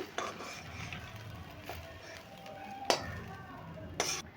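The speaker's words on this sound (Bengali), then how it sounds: "এবার আমি একটা পাত্রে নামিয়ে নিচ্ছি" Cooked potato, onion and poppy seed posto being moved from the pan into a serving dish, with a few sharp spoon and utensil clinks and scrapes against metal over quiet kitchen background, no talk.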